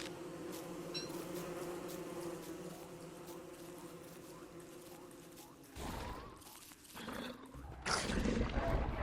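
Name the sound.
killer bees buzzing in video game Don't Starve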